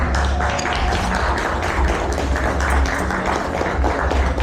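Audience applause voting for a contestant's dish at a live cooking competition: steady, loud clapping from a crowd sustained throughout, with little talk over it.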